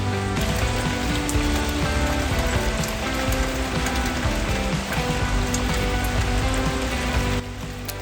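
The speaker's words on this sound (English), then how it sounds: "such a beautiful gentle rain" Gentle rain falls steadily outdoors, a dense, even patter of drops on surfaces that holds throughout and eases slightly at the very end, with no voices.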